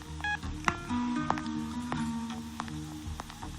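A quick run of telephone keypad dialing tones, several short steady beeps in uneven succession, fairly close and clear with no talking.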